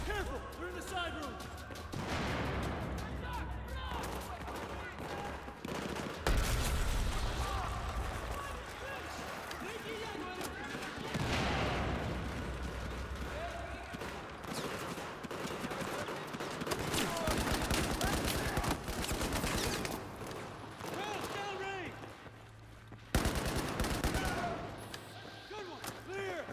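Dense Battlefield 4 campaign combat, with rapid gunfire bursts and impacts mixed into continuous game noise and shouted voices, running loud and steady throughout.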